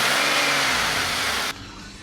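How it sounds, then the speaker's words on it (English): A GM 3800 V6 car engine revs loudly and steadily, then drops back to a lower hum near the end. "I like to give it a couple revs to make the water pump spin a little faster"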